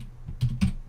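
A few quick keystrokes on a computer keyboard while entering a Linux cd command, three soft clicks in under a second, close and alone.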